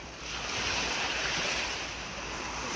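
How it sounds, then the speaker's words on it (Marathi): Sea waves wash onto the shore at Malvan in a steady, close, broad roar of surf with wind noise on the microphone, and no voices. "मावशीच्या घरापासून 1-2 मिनिटावरच समुद्र आहे."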